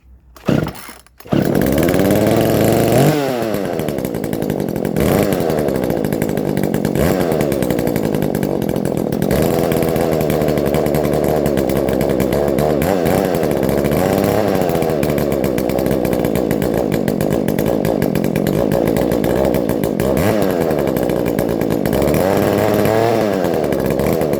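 A McCulloch CS370 chainsaw, freshly ported, runs steadily and loud for about twenty seconds after a couple of short starting pulls, its engine note wavering slightly as the throttle shifts.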